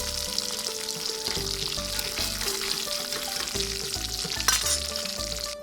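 Dried fish sizzles and crackles as it fries in oil in a pan, a steady hiss with scattered pops and a brief louder spatter, while melodic background music plays underneath.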